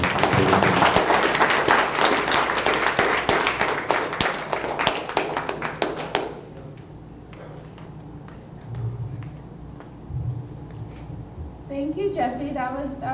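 A poetry open mic audience at a town library breaks into loud, dense clapping that stops abruptly halfway through, followed by a quieter stretch with a little talk and a few scattered sounds.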